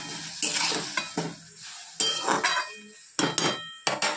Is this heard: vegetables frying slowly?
yes